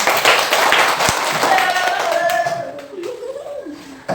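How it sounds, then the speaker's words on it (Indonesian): Fourth-grade schoolchildren in a classroom clap their hands together, a brisk patter of claps that tapers off as young voices chatter and a voice rises over the end. "tepuk tangan dulu untuk kalian semua"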